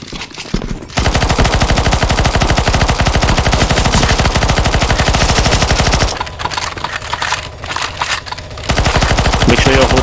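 Rapid automatic gunfire rattles in a CS:GO zombie escape mod as players shoot a dragon, loud dense bursts with a brief lull before the shooting resumes, with speech underneath.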